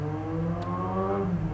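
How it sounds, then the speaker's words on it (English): Steady street traffic rumbles outside a home, with a car passing by as a low continuous whir that swells slightly, moderately loud and without speech. "I live right by the street, so I'm always getting that traffic noise,"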